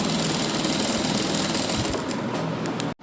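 A sewing machine stitches pintucks along a fabric strip at 1.5-inch markings, producing a loud, steady, rapid mechanical whir close by that stops abruptly at the end.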